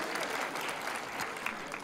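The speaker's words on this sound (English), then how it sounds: "Hold for applause" Brief, fairly quiet audience applause at a talk, a soft continuous patter of many hands clapping with no voice over it.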